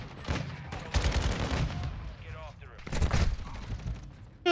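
Automatic gunfire in Call of Duty Modern Warfare 2, repeated rapid bursts close and loud, mixed with game sound effects and someone talking over it.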